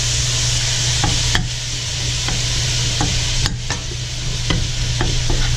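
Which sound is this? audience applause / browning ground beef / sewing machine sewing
browning ground beef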